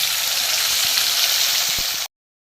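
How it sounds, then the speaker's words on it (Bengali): Salt-and-turmeric-coated pomfret fish fry in oil in a small wok with a steady, close hiss and crackle that cuts off abruptly into silence after about two seconds. "এখানে আমি এই পমফ্রেট মাছগুলো আমি ভেজে নেব"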